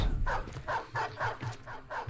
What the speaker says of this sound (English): Only 4 dogs, unfortunately.